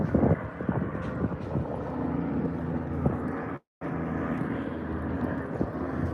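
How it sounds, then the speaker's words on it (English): A helicopter flies over San Francisco Bay near Pier 39, giving a steady, fairly loud engine and rotor drone mixed with wind and waterfront ambience, with a brief dropout partway through. "got a helicopter up here."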